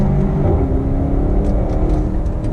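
A 2019 BMW X7 SUV pulls away under throttle, a loud low engine rumble and whir heard from inside the cabin, steady and sustained over a couple of seconds.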